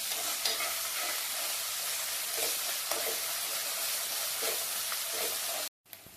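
Ginger garlic paste sizzles in a pan for chicken thokku, a loud steady frying hiss with intermittent stirring scrapes, cut off briefly near the end.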